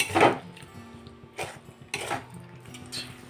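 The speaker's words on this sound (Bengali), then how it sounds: "এটা দিয়ে পটলের সাথে ভালোভাবে মিক্সড করে নিচ্ছি।" Pointed gourd being mixed with poppy seed and mustard paste, heard as a few separate scrapes and knocks of a utensil against the pan with quiet gaps in between.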